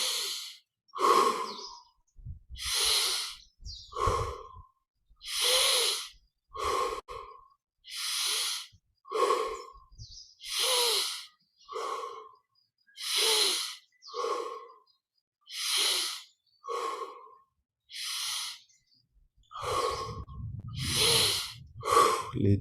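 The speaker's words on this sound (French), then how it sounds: "20 grandes respirations. Inspire par le nez, expire par la bouche." Slow, deep breaths drawn in through the nose and released out through the mouth during a guided meditation, about twenty evenly paced cycles of soft inhales and longer sighing exhales, close and otherwise quiet.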